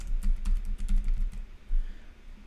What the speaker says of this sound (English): And I'm gonna type YouTube thumbnail.